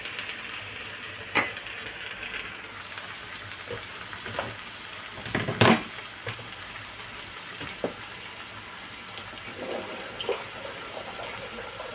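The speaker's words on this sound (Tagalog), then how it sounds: "Pinaghalo-halo na po siya natin. Haluin lang ng haluin." Pancit bihon noodles with plenty of cabbage being stirred in a pan, giving a steady soft sizzle and scraping with a few sharper knocks of the utensil against the pan, fairly close.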